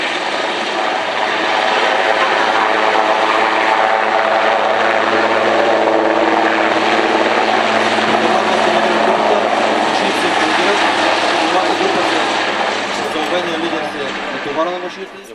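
A military helicopter at a special forces training exercise on a range near Kotel, its rotor and engine noise loud and continuous throughout, with a faint voice underneath.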